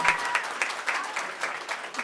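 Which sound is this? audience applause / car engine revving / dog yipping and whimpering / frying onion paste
audience applause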